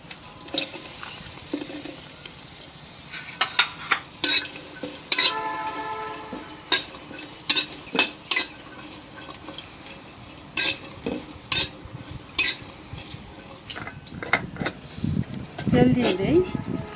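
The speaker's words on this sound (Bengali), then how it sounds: "এখন দিয়ে দিব কাঁচামরিচ আর রসুন।" Green chilies and garlic frying in a little oil in a home kitchen pan, stirred with a utensil that scrapes and clinks in irregular bursts over a soft sizzle, with speech mixed in.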